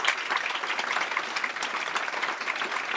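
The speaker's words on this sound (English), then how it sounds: "Give yourselves a big round of applause." A crowd claps steadily and densely throughout at a grand opening ribbon cutting for Imani Village, the applause sustained and fairly loud with no pauses.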